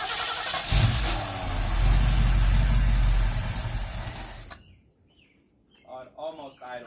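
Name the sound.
Ford Ranchero engine idling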